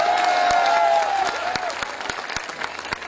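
An audience at a poetry recital claps, a dense burst of applause that thins into scattered individual claps, with a voice briefly heard over the start.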